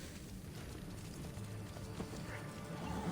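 Horse hooves gallop steadily in Assassin's Creed Brotherhood, a continuous fairly faint clip-clop rhythm under ambient game sound, with no talking.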